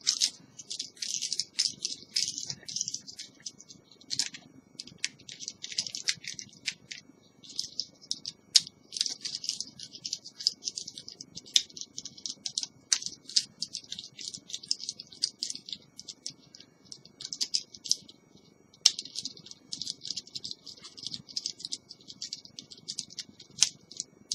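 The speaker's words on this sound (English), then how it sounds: "now I'm going to go back along and then tighten all of those screws up" Small screws on a model Routemaster bus being tightened, giving a continuous fine ticking and ratcheting rattle in close, busy bursts for the whole stretch, with no voices.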